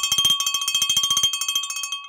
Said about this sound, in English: I think we might need to ring the bell again.